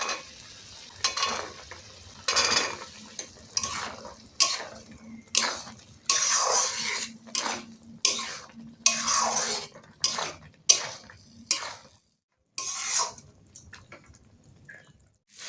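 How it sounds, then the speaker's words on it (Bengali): Green peas are tipped into a pan for egg curry and stirred, giving repeated bursts of scraping and sizzling close by in an uneven rhythm, with short quiet gaps between strokes. "মটরশুঁটিটা দিয়ে দেবো"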